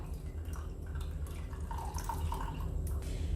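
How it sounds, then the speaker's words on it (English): Finger millet (ragi) milk trickles and drips steadily through a sieve, a constant close watery patter that never pauses. "again I am going to pass this through the sieve"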